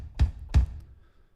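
Two deep, punchy kick drum hits played back from Cubase, about a third of a second apart, each with a soft thud that fades quickly into quiet.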